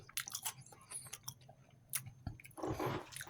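Onion garlic chips from a packaged outdoor breakfast meal being chewed up close, with soft crunching bites and moist mouth sounds in short irregular bursts, faint overall.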